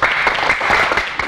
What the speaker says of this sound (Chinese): 我们掌声谢谢